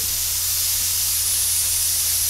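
An airbrush with a 0.2 mm needle set sprays paint at raised air pressure, giving a steady, even hiss of compressed air held throughout, close and alone.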